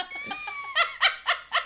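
A person imitates a seagull, first with a thin whistled squeal and then with four loud, harsh, laughing caw-like squawks in a steady rhythm, close and alone.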